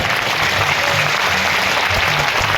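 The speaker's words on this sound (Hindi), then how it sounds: "तो ताली कौन बजाएगा?" An audience at a religious Bhagwat Katha gathering applauds, producing a loud, dense, continuous clapping that fills the whole moment with no pauses.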